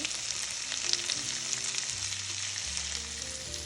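Chopped onion hits a hot pan for a lobster bisque supper and sizzles steadily, close and fairly loud, with a few clinks and stirring scrapes under the hiss and no voices.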